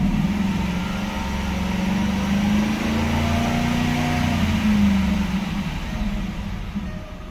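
Engine of a 2010 Jaguar XK Portfolio Coupe, still a little cold, driving slowly: a steady low drone with a gently rising and falling pitch, heard from inside the cabin with no talking.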